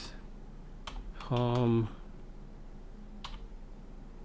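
Typing on a computer keyboard while entering Linux terminal commands: a few faint, sparse key clicks, with a short spoken word in the middle.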